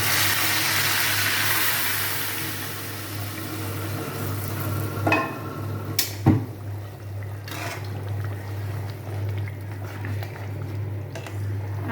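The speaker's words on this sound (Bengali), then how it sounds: "এখন হচ্ছে দিয়ে দেবো ফোড়নটা।" Onion tempering poured into a potato-and-egg dal, a broad hiss fading through the clip under a steady low hum, with a few sharp clatters and pops near the middle.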